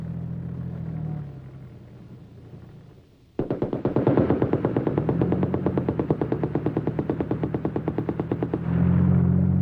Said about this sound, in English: The machine guns are, however, still useful against enemy infantry positions.